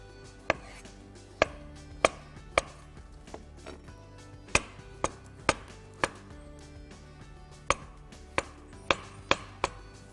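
A knife chopping avocado on a cutting board: a dozen or so crisp, close thuds at an irregular, unhurried pace, clear against a quiet kitchen with no talking.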